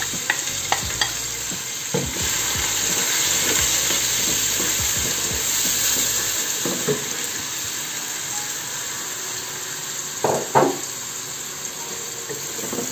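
Large-cut chopped ingredients for a black chana dish sizzle steadily as they fry in a pan, with repeated close stirring scrapes and clicks over a continuous bright hiss.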